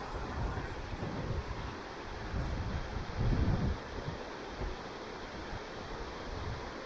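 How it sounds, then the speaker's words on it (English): A river rushes past a crossing point on a February walk, a steady, loud, continuous roar of flowing water with small surges and no voices. "Hear that sound of the river."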